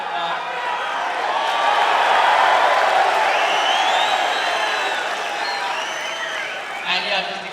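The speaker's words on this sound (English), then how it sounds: "this is more crazy than I expected the Perth crowd to be" A Perth crowd at a UFC press conference cheers, whoops and claps in a loud, sustained swell that peaks in the middle and then eases off, with voices mixed in throughout.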